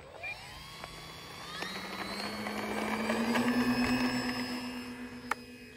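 A Flightline P-38 RC model plane with high-speed electric motors takes off, its motors rising into a steady high whine that swells louder over a few seconds, close by.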